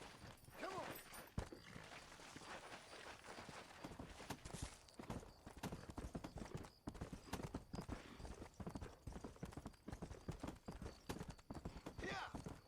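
Horse hooves clip-clop continuously in the Red Dead Redemption video game, a brisk, even run of hoof strikes with a whinny near the start and a voice talking over the galloping at times.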